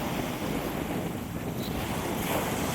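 Ocean waves wash onto a beach at Isla Verde as high tide comes in, a loud, continuous roar of surf mixed with heavy wind buffeting the microphone.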